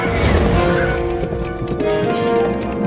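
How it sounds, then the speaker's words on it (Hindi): A cartoon horse gallops with a steady, rapid clatter of hooves that runs through the whole stretch inside a dense, busy mix. "ये घोड़ा मेरे कहने से भी नहीं रुक रहा"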